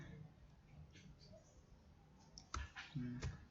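Keys on a computer keyboard tapped in a few quick clicks near the end of the stretch, faint and close, with a quiet background and some talking.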